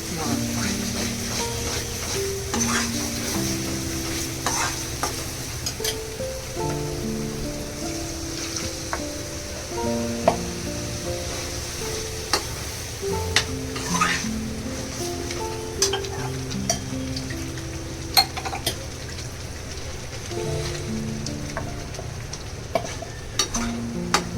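Green peas tossed into a pan and stirred while cooking for a vegetarian thali, with a steady frying sizzle, scraping spoon strokes and occasional clacks, and background music playing throughout.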